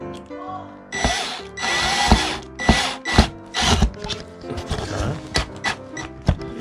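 Power drill boring a 5 mm pilot hole into drywall for a plaster anchor: repeated loud, rough bursts of grinding drive starting and stopping in short spurts, close up and with no talking.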